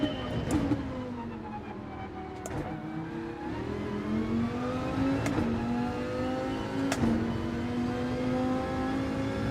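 A race car engine in Gran Turismo 7 holds a steady high drone, its pitch rising and falling with the throttle across gear changes, loud and continuous with no talk.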